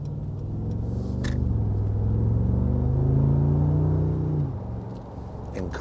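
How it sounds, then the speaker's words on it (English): A 2019 Mercedes-Benz G63 accelerating hard, its throaty exhaust note swelling into a deep, steady rumble for several seconds before easing off, close and loud with no talking. "Incredible throaty exhaust note."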